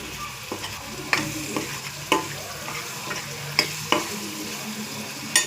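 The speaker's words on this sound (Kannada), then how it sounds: "ಚೆನ್ನಾಗಿ ಮಿಕ್ಸ್ ಮಾಡಿ" A spoon scrapes and knocks through a curry mixture in a pan while it sizzles steadily, with several sharp clacks against the pan at irregular intervals.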